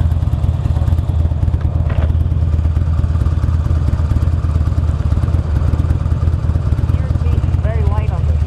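A 2009 Buell Lightning Long XB12SS V-twin motorcycle rumbles steadily while being ridden, with a constant low engine drone and wind rush, people talking over it.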